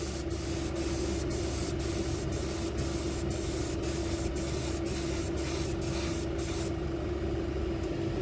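An airbrush spraying fabric paint, a continuous close, steady hiss broken by short regular pulses of the trigger, running alone without talk until it eases near the end.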